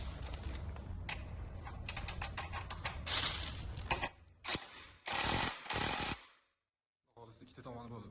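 Bolts tightened on the rear shock absorber of a SYM X-Wolf motorcycle, close metallic clicking and ratcheting in quick bursts with short pauses, a longer gap near the end, and faint talk underneath.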